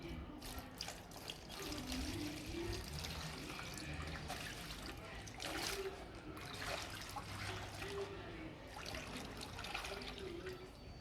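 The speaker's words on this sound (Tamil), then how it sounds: "பார்த்தீங்கன்னா லைட்டாக தண்ணி ஊற்றிக்கணும்." Water pours and trickles continuously, splashing lightly, with faint voices and clinking in the background.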